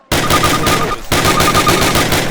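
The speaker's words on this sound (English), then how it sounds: "Fire 10 rounds at your target, first from the hip, then aiming down the gun sight." Rapid automatic gunfire in Call of Duty (2003) training, shots fired at a target: a long even burst of evenly spaced reports, a brief pause near one second, then another sustained burst, loud and close.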